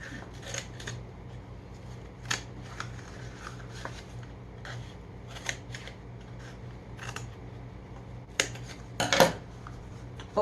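Cardboard toilet paper tubes flattened one way and then the other by hand, giving soft papery crinkles and sharp creasing clicks in uneven bursts, close by over a low steady hum, with a louder crackling cluster near the end.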